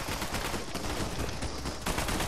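Dense, continuous gunfire in Fortnite, a rapid rattling stream of shots at moderate level that keeps going throughout, with no talk.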